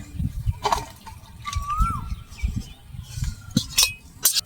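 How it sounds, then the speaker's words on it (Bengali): A thick lafa vegetable curry with potato and puti fish is poured onto a plate in short, soft wet splats and slides, with a few light clinks of utensil against the plate, close and quiet. "আমি ঢেলে নিচ্ছি থালাতে"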